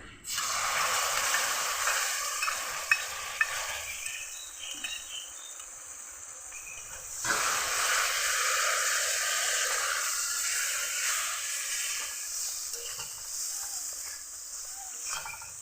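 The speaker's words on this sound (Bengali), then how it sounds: "সর্ষে বাটাটা একটু মশলার সঙ্গে ভেজে নেব।" Mustard paste frying with spices in a pan for a chapila fish curry makes a soft, steady high hiss and light crackle, fairly faint, swelling slightly midway.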